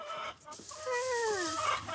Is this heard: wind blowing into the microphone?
no